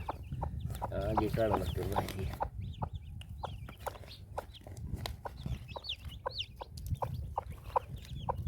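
Hens clucking nearby in repeated short calls, with someone talking over the first couple of seconds and rain-season outdoor ambience around them.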